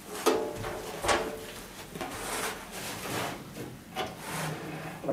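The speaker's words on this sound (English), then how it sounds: "we're going to install the three drawers. They're all the same onto the soft close fittings." Three identical drawers are slid onto soft-close fittings during assembly of a KamadoSpace outdoor kitchen island: repeated wooden sliding, rubbing and knocking sounds at irregular intervals, fairly quiet, close by, no talk.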